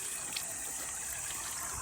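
Water runs steadily from an outdoor tap at Dainohara Forest Park, a soft, constant hiss of flow at low volume with no voices.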